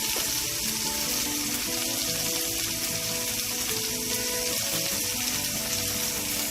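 Beef for a pot roast sizzles and fries steadily in a hot pan, a continuous close crackle with no pauses and no voices.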